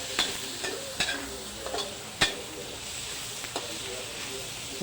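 Pork and chili are stirred in a pan for pinakbet, giving a soft steady sizzle broken by light scraping clicks of the utensil, fairly quiet throughout.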